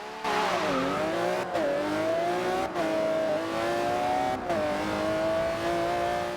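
An untuned car in Forza Horizon 2 launching from 0 to 60, engine screaming loudly up through the gears with four brief shift breaks, each followed by the pitch climbing again, no talk.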